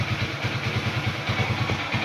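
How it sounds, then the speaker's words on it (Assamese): Motorcycle fitted with i3s technology running in gear after starting and releasing the clutch: a steady, close low engine thump with quick regular pulses, continuous and alone. "বাইকখন চলি আছে"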